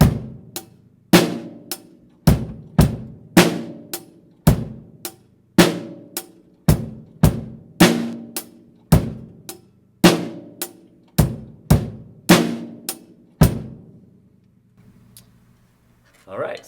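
A simple drum-kit groove on hi-hat, snare and bass drum, with sharp percussive hits in a steady pattern played up close, occasional short pauses, then fading out near the end.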